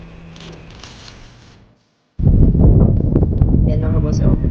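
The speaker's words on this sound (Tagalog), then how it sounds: "ang lakas ng hangin mga bossing" Strong wind gusts through trees during an airgun bird hunt, a loud steady rushing roar with rustling that drops away briefly before surging back even louder.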